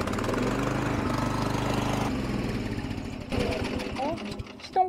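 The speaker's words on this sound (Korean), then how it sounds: "자, 그런데 제가 시동을 걸어 볼게요." The small gasoline engine of an ILM-500 cordless weeder, which drives a charging generator, starts and runs with a rough, rapid mechanical chatter. Someone talks over it and a clunk comes at the end.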